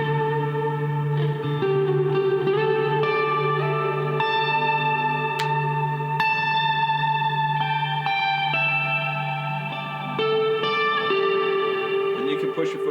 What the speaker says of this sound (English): you can have like a low reverb